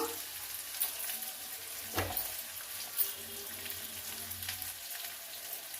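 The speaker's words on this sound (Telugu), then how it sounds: "ఉల్లిగడ్డలు వేసుకొని బాగా వేగాలండి." Onions fry in a pan for a bottle gourd curry, making a constant soft sizzling hiss with occasional stirring taps and brief louder crackles, fairly quiet and close.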